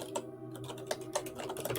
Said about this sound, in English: It's a stupid keyboard.